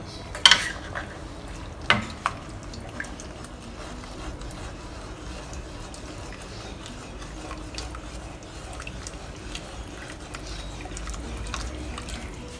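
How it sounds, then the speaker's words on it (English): Stirring eggplant, lady's fingers and coconut milk in a curry pot, with a few sharp clinks of a utensil against the pot early on, then soft, low stirring and bubbling sounds continuing quietly throughout. "Stir in also 400 milliliter of coconut milk."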